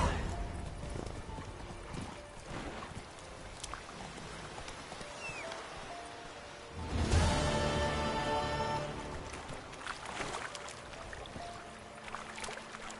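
Geralt's horse Roach trots in The Witcher: Wild Hunt, with soft rhythmic hoofbeats, a swell of louder movement midway and a faint whinny, fairly quiet and close.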